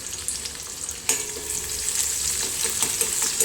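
Chopped onion and garlic fry in oil in a pan, giving a steady close sizzle with brief crackles and a louder spatter about a second in as the pieces hit the oil.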